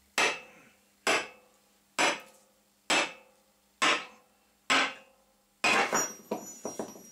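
A wooden handle is hammered onto a forged splitting maul: six evenly spaced, ringing blows, each about a second apart, followed by a quicker run of lighter taps, all close and clear.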